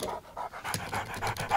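A dog pants in quick rhythmic breaths, close up, about eight huffs in a steady pattern with no speech.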